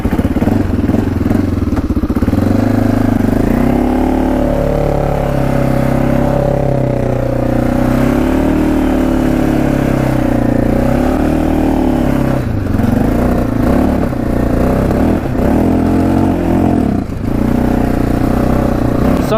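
Engine of a Can-Am DS 650 quad running and revving close by, with a steady rough idle rising and falling through several throttle blips across the whole stretch.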